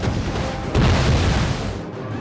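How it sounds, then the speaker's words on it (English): Explosions from grenadiers' thrown grenades in a Napoleon: Total War battle, a dense rumbling roar of blasts that swells loudly partway through and holds, with continuous battlefield din behind. "They counter with grenadiers, throwing explosives into the British square, dealing massive casualties and morale damage to my flank."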